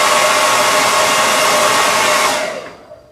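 A hair dryer blows loud and close as it dries paint on a floral cow painting, a steady broadband whoosh that winds down and cuts off near the end.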